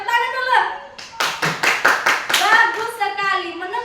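Children in a classroom clap their hands together in a quick burst of about eight sharp claps, with a teacher's voice speaking before and after.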